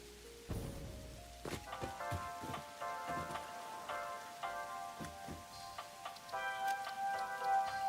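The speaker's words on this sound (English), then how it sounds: "I can hear the rain." Steady rain patters and ticks on a surface in the video game Satisfactory, with a tonal musical backdrop of sustained notes, quiet and even throughout.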